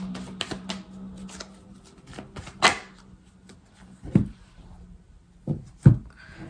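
Oracle cards being cut and handled: soft papery slaps and shuffling ticks, with a few sharper card taps standing out over a quiet low hum, no talking.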